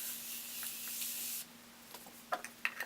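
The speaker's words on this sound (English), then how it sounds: "I'm going to set my face with the Morphe setting spray." Morphe setting spray misted onto a face in a steady, close hiss lasting over a second, followed by quieter rustles and small taps.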